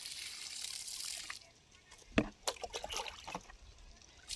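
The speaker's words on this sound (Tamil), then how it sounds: "இதை அப்படியே ஊற்றிக்கிட்டே பார்க்கணும் ஒவ்வொரு செடிக்கா." Liquid solution poured from a container onto garden plants one by one, a soft trickling splash with a few separate gurgles and drips after a faint hiss, close and fairly quiet.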